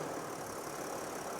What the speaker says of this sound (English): As you can hear, the engine is running